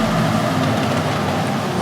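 Supercharged V8 Jaguar in Forza Horizon 5 on a downshift, a loud dense engine roar with rough crackling exhaust texture over a short burst, no voices.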